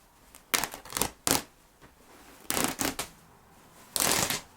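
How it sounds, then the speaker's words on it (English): Scissors cut out sewing pattern pieces in a few separate close bursts of crisp snipping and rustling, with quiet gaps between them and no talking. "Let's go ahead and cut out pattern pieces."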